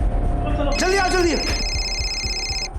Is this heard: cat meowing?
no